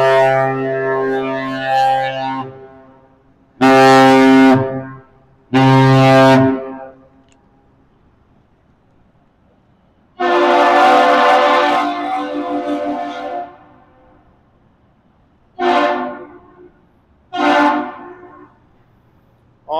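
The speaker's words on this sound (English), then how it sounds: "Some whistle exchange between the captain of the AC, as I affectionately call her." The 1,000-foot freighter American Century trades whistle signals with another vessel at Duluth, Minnesota: long deep horn blasts, then shorter ones, loud and ringing, with silent gaps between them.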